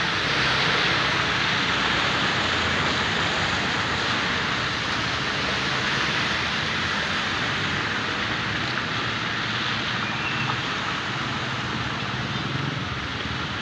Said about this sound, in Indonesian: pada saat hujan deras seperti saat ini